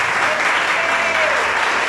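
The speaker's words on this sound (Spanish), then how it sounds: "Dale un aplauso al Señor con vida." A church congregation claps for the Lord in a brief, loud, continuous burst, dense and close, with a faint voice rising through it.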